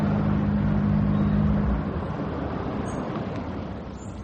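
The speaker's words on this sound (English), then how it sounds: "I'd better stop the car." A car in a radio drama is brought to a halt: a low, steady engine rumble runs for under two seconds, then drops away, leaving a softer background hiss and faint mechanical noise.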